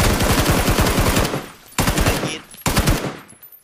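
Rapid automatic gunfire in a video game, loud and close, coming in three bursts with a brief pause between each, almost no talk over it.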